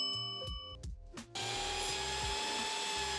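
Power saw slicing through soft wood into a sacrificial backing board, a brief whine and knock before a loud steady cutting roar that fills the rest, close and continuous.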